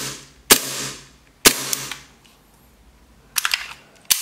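A second-hand gas airsoft pistol fires sharp, loud single shots with crisp snapping reports, two spaced shots, then a quick burst of several, then one more, close up with no talking.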